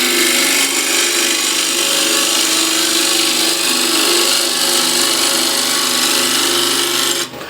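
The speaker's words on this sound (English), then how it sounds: "Back to using continental spindle gouge. So again, let's shape the outside first." A continental spindle gouge cuts the outside of a wooden bowl spinning on a lathe, giving a loud, steady scraping hiss with a droning hum underneath that runs without a break, then eases off right at the end.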